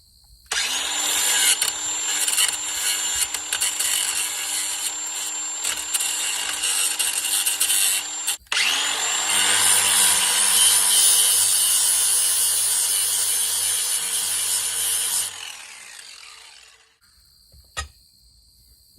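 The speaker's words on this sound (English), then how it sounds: "One thing you got to do too is you got to sand this so the nut can go on." Steady abrasive sanding on a part of a Spector Duramax Flo N Go rolling fuel tank so a nylon nut will fit, a continuous loud close rasping that pauses briefly midway, then resumes before trailing off.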